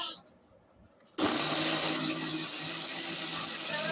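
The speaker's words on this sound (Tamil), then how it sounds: "போட்டு மிக்சியை அரைச்ச ஜூஸ் ரெடி" A kitchen mixer grinder whirs loudly as it blends Sendura mango juice, cutting in abruptly after a quiet moment and holding a steady, dense roar to the end.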